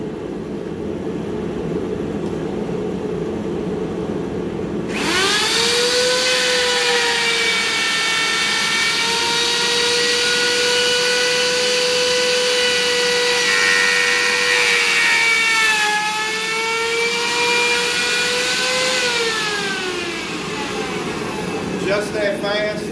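A router rides a homemade aluminum router sled, planing across wood with a loud, steady high-pitched whine that climbs as it bites in and shifts pitch on the pass across and back, alone and close.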